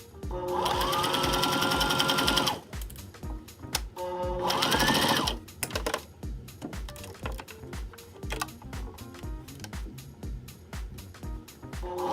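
A sewing machine stitches a pillow seam in two loud, steady bursts, the first longer than the second, followed by lighter clicks and handling sounds.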